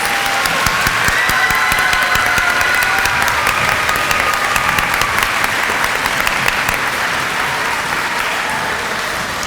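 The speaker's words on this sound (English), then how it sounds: "Can we give them one more round of applause, please?" Sustained, loud audience applause for a school performance put together by a music teacher, dense clapping holding steady throughout with a few crisp individual claps on top.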